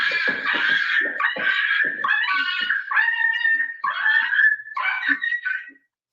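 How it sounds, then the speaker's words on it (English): Small dogs such as chihuahuas barking and yelping in quick, high-pitched bursts, close and loud, with short whimpering yips between the barks, and no talk over them. "Little dog bark."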